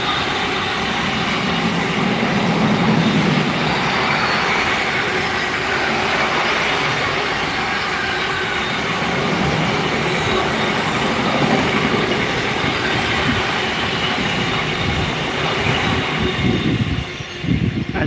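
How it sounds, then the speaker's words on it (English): Pendolino train passing through Rugeley Trent Valley station on a misty day, a long sustained rushing roar with rail clatter that swells and fades over many seconds. "There's another Pendolino."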